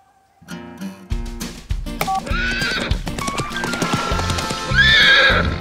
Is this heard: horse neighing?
yes